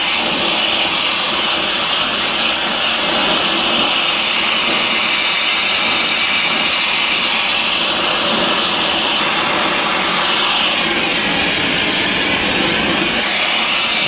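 A torch roars steadily against an early Ford steering arm being heated, a loud continuous broadband hiss close up with slight shifts in tone and no talking.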